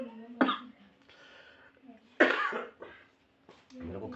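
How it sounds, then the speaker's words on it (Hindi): A person coughs in a few sharp, harsh bursts spaced apart, close and fairly loud, with quiet gaps between them and a voice speaking briefly between the coughs. "मेरे को खांसी हो गई"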